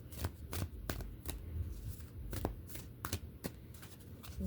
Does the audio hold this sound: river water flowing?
no